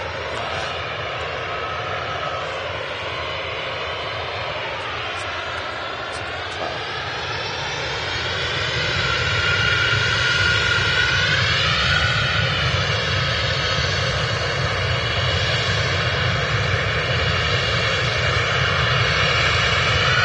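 A Boeing 737 airliner at Manchester Airport roars loudly and steadily at close range, its engine whine rising in pitch and volume midway as it passes, with no talk over it.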